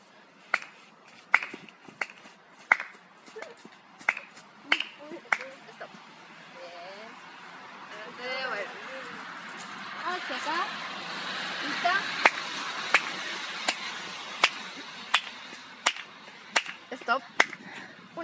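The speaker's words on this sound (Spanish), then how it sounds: "Yo la voy a ir guiando con el sonido de las palmas." Hand claps guiding a student jogging in place during an adapted sports class, sharp single claps in a loose repeated rhythm, with quiet talk and movement in a room between them.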